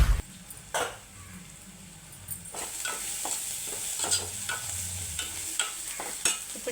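Onion pieces frying in oil for chicken curry, a steady sizzle with repeated scraping stirs of a spoon against the pan, close and fairly loud.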